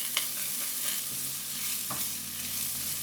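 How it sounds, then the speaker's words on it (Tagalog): Onions sautéing in a hot pan give a steady close sizzle. Several sharper stirring scrapes rise above it, and no one speaks. "Maggisa tayo ng sibuyas."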